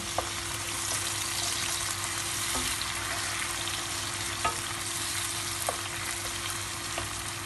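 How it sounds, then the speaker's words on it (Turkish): Tomatoes added to red and green peppers frying in a pan for bulgur pilaf, giving a steady, even sizzle at moderate volume with faint occasional clicks of stirring, no talk. "Kavruldu biraz kırmızı biber, yeşil biber. Şimdi domatesi koyuyorum."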